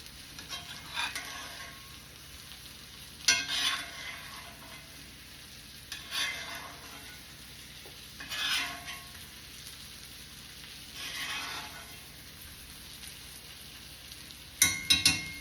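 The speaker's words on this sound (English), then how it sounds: "Gonna take this juice and just baste the edges" A ribeye steak sizzles softly in a pan while pan juices are spooned over the edges, with a quiet frying bed broken by recurring louder spattering bursts every few seconds.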